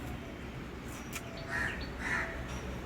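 A crow gives two hoarse caws, the pair spaced about half a second apart, faint over a steady outdoor background hiss.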